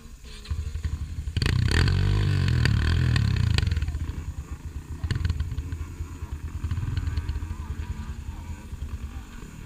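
Dirt bike motor running in mud, revving loudly for a couple of seconds then settling into a rougher, uneven idle with bursts, close by outdoors, with talk over it.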